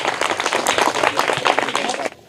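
Students in a school classroom burst into loud, dense clapping for a classmate who answered correctly, the applause filling the room before cutting off abruptly.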